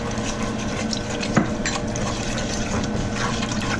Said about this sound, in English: We keep on adding a little bit of water.